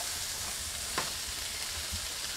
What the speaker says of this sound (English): So really just stirring like a regular average guy.